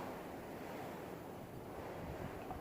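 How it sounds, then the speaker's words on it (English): Outdoors in a rural spot, wind buffets a microphone with a constant rough low rumble and broadband roar that holds steady and fairly loud throughout, with no one talking. "By the way, please ignore the wind."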